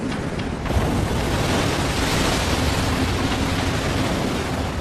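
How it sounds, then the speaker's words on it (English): Giant tsunami waves crash over a seawall at the Fukushima Daiichi nuclear plant, producing a loud, continuous broadband roar that surges up after a brief softer start and then stays dense and unbroken, with no voices. "the first of 7 giant waves crashes over the seawall"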